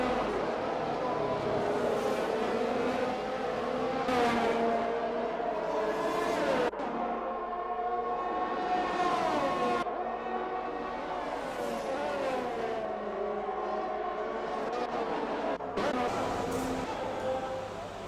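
Formula 1 cars in a racing video game whine through gear changes with rising and falling engine tones, running steadily beneath constant race commentary.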